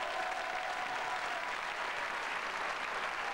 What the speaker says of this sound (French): Je vous demande d'applaudir Amira Casar et Bruno Puzzulu